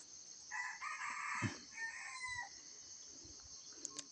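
A rooster crows once, a clear, fairly close call rising and trailing off over about two seconds, followed by a few soft clucks against a quiet farmyard background with a faint high insect drone.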